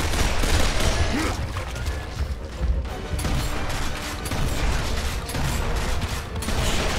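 Pistol fire in Gears of War pops rapidly and densely amid a chaotic, loud din of explosions and mechanical clatter, continuous for several seconds.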